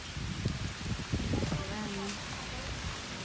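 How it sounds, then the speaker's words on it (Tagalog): Heavy rain pours down in Tagaytay, a dense, continuous hiss of drops on surfaces surrounding the listener at an even level, while a person speaks briefly over it. "Kaso umuulan ngayon. Lakas ng ulan."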